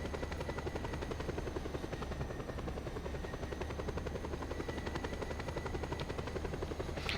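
A helicopter in the video game Just Cause 2 thrums steadily throughout, its rotor chop a loud, constant pulsing drone with a faint mechanical whine, heard alone without voices.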